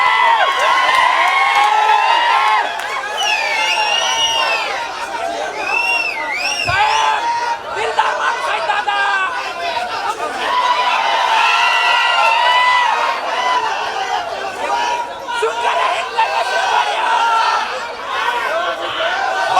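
Crowd cheering and whooping at an outdoor political procession, a dense, loud and continuous roar of many voices with shouts rising above it throughout.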